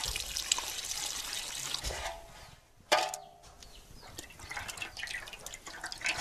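A homemade herbal pesticide brew (agneyastra) is strained, with liquid trickling and dripping steadily. A brief pause interrupts the flow before it resumes, faint and close.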